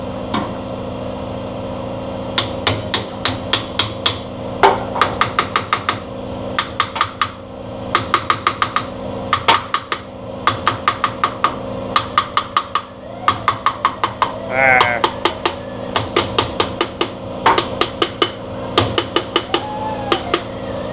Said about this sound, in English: The satisfying note change of the hammering.